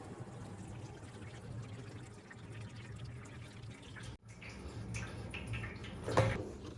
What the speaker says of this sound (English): while this sap is draining